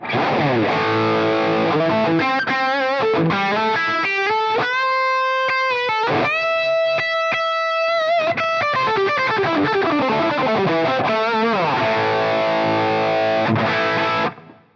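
An electric guitar plays crunchy, overdriven Marshall-style chords and single notes through a Crazy Tube Circuits Heatseeker pedal. It is loud and continuous, then ends with a ringing chord.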